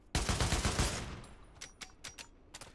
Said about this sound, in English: when you fire and you remove the magazine, you can hear the sound of the bolt.